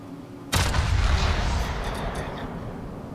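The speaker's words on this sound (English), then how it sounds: "That's just half my cannons." Warship cannons fire in a naval battle video game, one sudden loud booming broadside followed by a long rolling, fading rumble.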